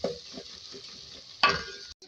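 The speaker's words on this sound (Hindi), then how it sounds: "अब इसमें ऐड करेंगे लहसुन का पेस्ट 2 खाने के चम्मच। इसको भी फ्राई करेंगे" Garlic paste frying with softened onions in a pan for a Mughlai fish curry, a steady close sizzle with soft stirring scrapes and a brief louder burst near the end before it cuts off.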